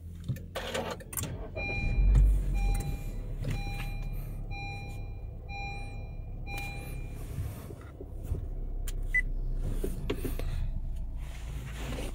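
A 2015 Honda HR-V 1.5 E with a CVT starts up: a series of short electronic chimes, then the engine catches and settles into a low, steady idle rumble close by, with no talking.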